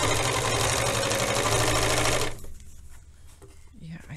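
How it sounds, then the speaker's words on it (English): Serger sewing machine trimming and overlocking a fabric edge for a narrow hem, a loud, dense, steady mechanical whir that runs for about two seconds, then stops abruptly, leaving quiet room sounds and a faint voice. "when you saw me starting to serge off this edge"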